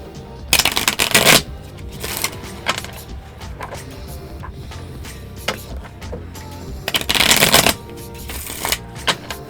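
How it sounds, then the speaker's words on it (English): Tarot cards being shuffled by hand, with several loud riffling bursts and the snaps of cards being bridged and tapped, close up and with no talking. "Hold on, let me shuffle it first"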